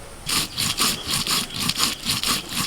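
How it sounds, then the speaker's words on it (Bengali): Whole coriander and cumin seeds are ground together by hand in a steady back-and-forth rhythm, about a dozen rasping strokes at close range. "এখন আমি এবার ধনে জিরেটা বেটে নিচ্ছি গোটা ধনে আর গোটা জিরে"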